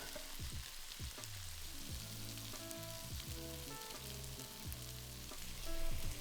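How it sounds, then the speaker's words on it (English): Meatballs browning in a hot frying pan for a Thai chicken meatball curry, giving a steady sizzle with intermittent stirring and scraping sounds, close and continuous, with no one talking. "then we're going to brown those meatballs for about 6 to 8 minutes"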